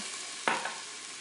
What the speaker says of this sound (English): I've got a half a cup of red wine. I'm going to put this in and deglaze the goodie off of the bottom of the pot.